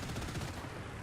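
Rapid gunfire rattles in a War Thunder tank battle, a dense burst of shots packed into one second over a loud, noisy background.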